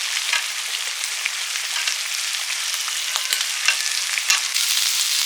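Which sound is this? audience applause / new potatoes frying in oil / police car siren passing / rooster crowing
new potatoes frying in oil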